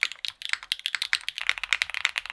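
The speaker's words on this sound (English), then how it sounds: "custom keyboards sound freaking awesome" Custom mechanical keyboard typed on at a fast, steady pace, each keystroke a crisp, close clack in a dense, uneven rhythm with no talking.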